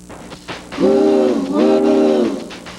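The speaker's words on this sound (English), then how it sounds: "you can take the A Train, Amtrak's auto train to Florida" An Amtrak Auto Train horn sounds in two sustained blasts, loud and close, with a brief dip between them.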